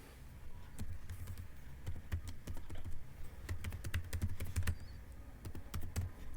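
Keystrokes on a computer keyboard type out a URL, a quiet, close series of irregular clicks in quick bursts with short pauses and no speech.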